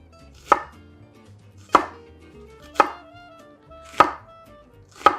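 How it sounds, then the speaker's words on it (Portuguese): A knife chops an onion on a cutting board in five sharp, evenly spaced strokes roughly a second apart, close and distinct, with faint background music and no voices. "Mas eu vou optar por cortar com a faca."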